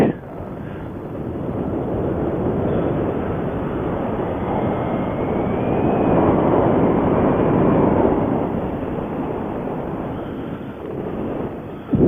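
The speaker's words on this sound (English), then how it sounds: "I'm going to kill the motor" Small aircraft engine drones steadily through the whole descent toward landing, mixed with heavy wind rush over the microphone, swelling slightly in the middle and easing near the end.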